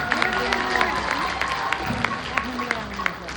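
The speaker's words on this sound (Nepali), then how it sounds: "ताली बजाउन अनुरोध गर्दछु म।" An audience claps for a group of musicians at a live music event, with scattered claps and crowd murmur rising under a speaking voice, moderately loud and continuous.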